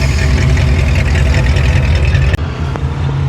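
A 1983 Mazda RX-7 rotary engine idling up close, a loud steady low rumble that dips briefly and then settles into a slightly lower drone.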